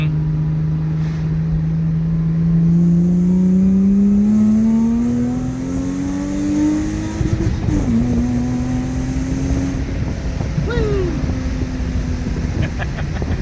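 A custom drift-built Subaru Impreza with a swapped H6 engine revs up in a smooth rising sweep, then settles and blips again, loud and close, with people talking over it.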